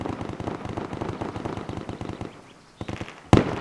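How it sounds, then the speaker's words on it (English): Heavy gunfire in the Arma 3 video game during a team-versus-team combat match at Myshkino: a rapid, steady run of shots, then a lull and a sharp, loud blast near the end. "There's some fucking heavy fire going on."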